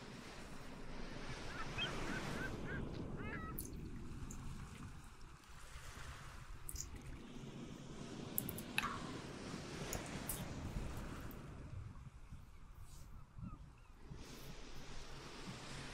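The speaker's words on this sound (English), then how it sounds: "Now we can sit and relax and just listen to the waves." Ocean waves wash onto a beach in slow, soft surges under steady wind noise, faint and distant with a few light high chirps, and nobody speaks.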